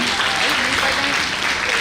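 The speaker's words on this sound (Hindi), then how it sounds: "सबके लिए एक ताली तो बजनी चाहिए हमारी तरफ से भी।" An audience at the Delhi Star Award 2024 ceremony claps for the award recipients, a loud, continuous roar of hands with a voice speaking over it.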